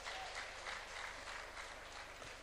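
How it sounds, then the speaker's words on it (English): Audience applause at a development workshop: a soft, steady wash of many hands clapping together, heard from a distance with no voices over it. "Another round of applause"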